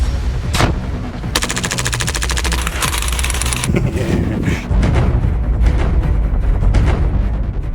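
Airsoft guns firing loud and close, with rapid full-auto bursts of dense mechanical clatter and single sharp shots, followed by a sustained stretch of busy rattling shots and clicks.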